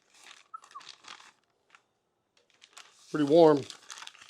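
Wrapped Texas-style BBQ spare ribs being unwrapped: close, papery crinkling and rustling in short bursts, with a brief spoken remark near the end.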